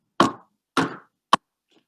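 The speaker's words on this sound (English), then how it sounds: "One day she heard a knock on the door." Three sharp knocks on a door, evenly spaced and close, the last one shorter and crisper, standing alone in silence.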